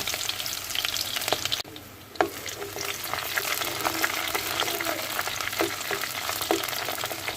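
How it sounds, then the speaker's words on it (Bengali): Onion frying in mustard oil in a pan, a dense continuous sizzle with one short dip and scattered light stirring taps. "পেঁয়াজটা একটু নরম হয়ে আসা পর্যন্ত আমি ভেজে নেব"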